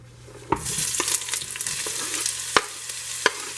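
Chopped onion sizzling as it goes into a hot pot, a steady bright frying hiss with a few sharp clacks of a utensil stirring, close and alone without talk.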